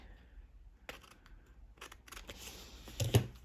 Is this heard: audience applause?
no